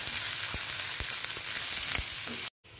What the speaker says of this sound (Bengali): তারপরে দিচ্ছি ক্যাপসিকাম। দিয়ে আবার এটাকে ভেজে নিচ্ছি।